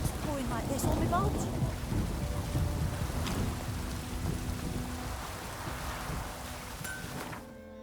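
Rain pouring in The Witcher 3: Wild Hunt, steady downpour with a rumble of thunder near the start and low rolling booms, while a voice speaks over it.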